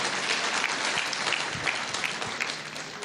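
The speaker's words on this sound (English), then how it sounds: "Clap for him." An audience at a live public forum bursts into a short run of applause, dense even clapping from many hands, moderately loud, with no voices over it.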